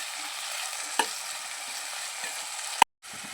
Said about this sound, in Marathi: कांदा परतलेला आहे, आता टमाटे टाकायचे आणि परत एकदा परतून घ्यायचं छान मिक्स करून